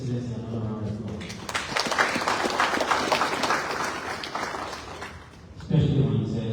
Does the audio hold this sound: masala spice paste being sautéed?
no